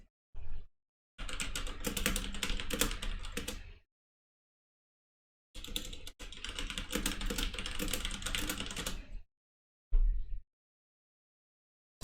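Computer keyboard typing in bursts, rapid clattering keystrokes in two long runs separated by silence, with a few short taps at the start and near the end, close and clear with no voices.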